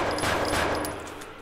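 Rapid gunfire in the horror video game Deppart: a dense burst of sharp, closely spaced shots, loud and near, which tapers off slightly toward the end.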